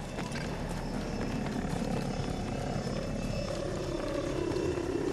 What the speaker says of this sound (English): Aircraft on the ground